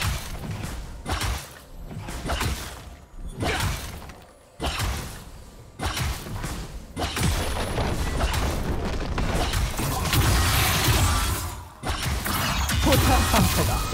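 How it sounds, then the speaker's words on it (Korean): A turret is destroyed in a League of Legends match, a series of heavy crashing, crumbling impacts and mechanical clanks building into a sustained loud rumble of debris, with little speech. "파란 팀의 포탑이 파괴되었습니다."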